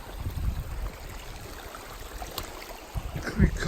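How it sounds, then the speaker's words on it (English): Creek water rushes at a creek crossing on a mountain hiking loop, a continuous broad wash of flow with low rumbling swells, heard close by with no one talking. "Creek crossing."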